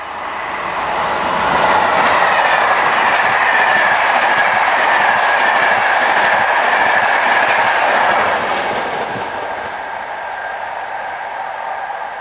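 Belgian train 2730 runs past on a Bruxelles to Landen service, swelling to a loud sustained rumble and rhythmic wheel clatter, then fading as it moves away, with no talking.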